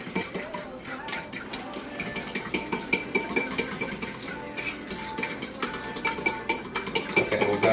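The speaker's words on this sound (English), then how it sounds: "Now I'm going to whisk that up a little bit more." Egg wash with cinnamon sprinkled in is whisked with a utensil in a bowl, a busy run of quick metallic clinks and scrapes that repeat steadily and close by.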